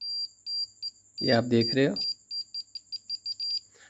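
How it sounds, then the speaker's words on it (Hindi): A SAMWA 360TR multimeter set to continuity gives short high beeps as its probes touch, repeated in quick bursts, with someone speaking briefly over the first few. "बज़ में जब आप दोनों प्रोब्स को आपस में मिलाएं तो आपको एक बीप सुनाई देता है"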